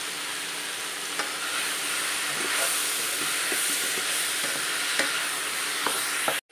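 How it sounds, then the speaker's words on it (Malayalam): Chopped mango dropped into hot ghee in a pan, a bright continuous sizzle with occasional light clicks of stirring, close and steady, no voices. "നെയ്ക്കകത്തേക്ക് നമുക്ക് മാമ്പഴം അരിഞ്ഞിട്ട് കൊടുക്കാം"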